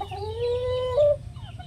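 Hens and a rooster in a coop give one clear, drawn-out call that rises at the end, close and loud over a quiet background of soft clucks.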